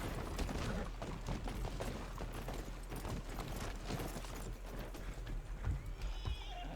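Horse hooves clop in a steady rhythmic gait close by, with a horse whinnying over the footfalls and faint mechanical rattles in the background.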